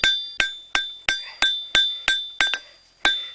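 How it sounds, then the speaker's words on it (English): Sharp metallic hammer strikes on hot steel over an anvil ring out in a steady rhythm, about nine evenly spaced blows with a bright clink and short ringing decay, close by. "just keep rolling it on the anvil while you hammer on it."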